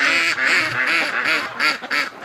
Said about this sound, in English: Oh, little duck.